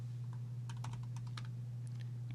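Brisk computer keyboard typing, a run of sharp clicks and key taps close by over a steady low electrical hum, with no voices.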